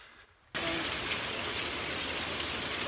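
Rain falls on the Appalachian Trail near Unicoi Gap in Georgia, a loud, dense, steady hiss that starts suddenly after a quiet moment and then carries on unbroken.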